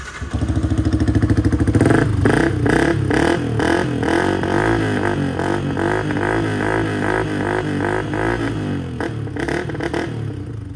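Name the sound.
Yamaha R15 v2 motorcycle exhaust note with dB killer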